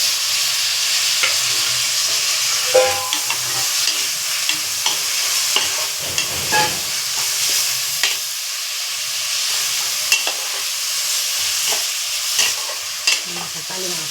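Garlic paste sautés in a pan for jackfruit biryani, giving a steady hissing sizzle with intermittent clinks and scrapes of a stirring spoon; close and continuous, no voices.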